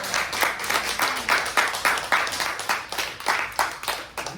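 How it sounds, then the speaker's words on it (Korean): Applause from a lecture audience, a steady patter of many hands clapping at moderate level with slight rhythmic swells, some voices faintly underneath. "이 내용을 박수 한번 쳐줘야죠"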